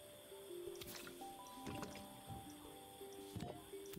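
Squishy, dripping liquid sounds of broth being poured in the puzzle game Assemble With Care, with soft wet splashes and light clicks over a steady, quiet musical background.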